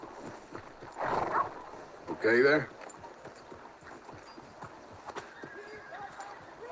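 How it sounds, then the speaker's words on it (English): Horse hooves clip-clop in Red Dead Redemption 2, soft and steady under a man's brief spoken greeting, with a short whinny breaking in near the middle. "That's a nice horse."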